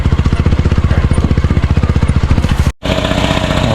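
A small gasoline grass cutter engine sputters and runs in a rapid, steady chugging pulse, loud and close, then cuts out briefly before it picks up again at a rougher, higher-pitched idle.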